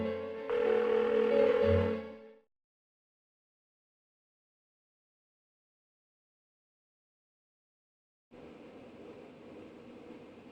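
A phone call in the Persona 4 game rings out unanswered: a steady electronic tone for about two seconds, then a long silence before a fainter tone resumes, with no voices.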